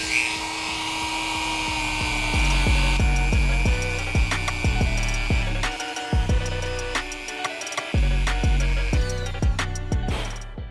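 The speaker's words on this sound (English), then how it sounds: "now it's time to Dremel out and shape this cushioning system" A Dremel rotary tool grinds and shapes foam cushioning on a custom Air Jordan 10 sneaker, giving a steady high buzzing whine broken by short repeated passes and pauses, loud and close throughout.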